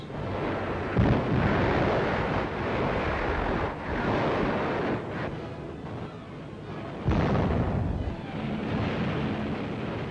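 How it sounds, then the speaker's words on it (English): Heavy booming blasts of depth charges dropped by destroyers erupt in a loud, roaring wash, with sudden surges around a few seconds apart, like water churning after explosions. "Destroyers answer with depth bombs."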